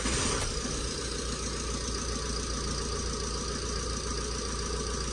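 Ford Transit Connect van engine running on a test drive after an alternator repair, a steady mid-pitched drone with faint rhythmic knock, close and continuous without speech.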